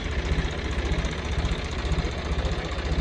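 A John Deere 5405 tractor engine runs steadily in low gear with a rotavator attached, a low, throbbing rumble and rhythmic knocking, close and loud, with no talking.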